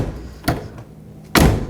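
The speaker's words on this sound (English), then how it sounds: "I'm going to close the door." The front door of a 2000-2006 BMW X5 swings shut after its exterior handle is replaced, giving a soft knock followed by a solid, loud latching thud close by.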